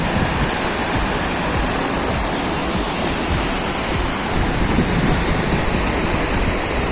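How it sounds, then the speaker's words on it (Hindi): A river rushes through Kaghan Valley with a continuous, loud broadband roar of flowing water, steady and unbroken, with no voices over it. "दरिया यहाँ पे आप देख सकते हैं बह रहा है"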